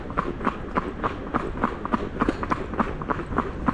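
Horse hooves strike a city street in a steady, even clip-clop rhythm, close and clear over faint traffic rumble, with no voices.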